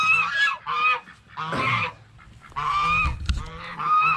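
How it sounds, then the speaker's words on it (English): Several geese honk loudly and harshly in close bursts, with brief pauses and some scuffling between calls. "Look at the geese are kicking them out."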